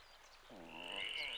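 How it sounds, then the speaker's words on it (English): A badger frog croaks in an animated Avatar cartoon, a single short resonant croak building over about a second against faint background. "Do 20 sets of fire fists every time you hear a badger frog croak."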